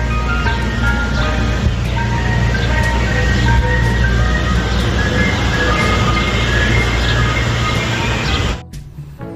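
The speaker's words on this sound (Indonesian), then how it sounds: "Di sini ada mobil es krim." A toy ice cream truck plays its tinkling melodic jingle over a steady motor hum, loud and continuous for about eight seconds before cutting off abruptly.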